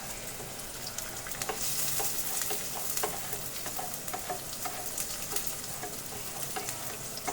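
Chopped onions and green chillies frying in oil, a continuous close sizzle and crackle broken by repeated scraping stirs against the pan, with no one speaking.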